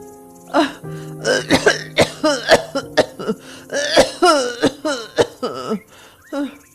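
A person coughs hard and repeatedly in a long, harsh fit of rapid barking coughs, close and loud, with strained breaths between.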